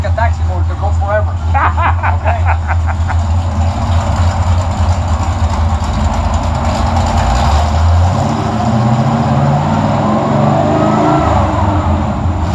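An Oldsmobile Rallye 350 V8 runs loud and steady on a dyno, low rumble holding throughout with a rising rev sweep late in the pull, while people talk over it.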